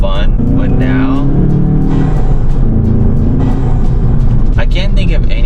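A Volkswagen GTI with an Integrated Engineering intake and a Stage 1 tune pulls hard through the gears, its engine note climbing, dropping at each shift and climbing again, loud and close from inside the car.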